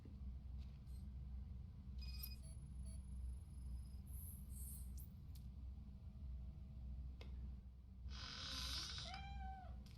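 A cat meows a few times in a Robocop video game, short faint cries over a low steady rumble, with a clearer meow near the end.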